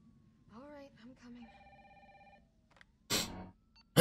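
Old house phone ringing in Resident Evil 3 Remake, a few electronic rings in a quiet room, followed by a burst of noise and a voice.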